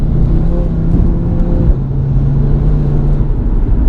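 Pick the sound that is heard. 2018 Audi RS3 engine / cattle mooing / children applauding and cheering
2018 Audi RS3 engine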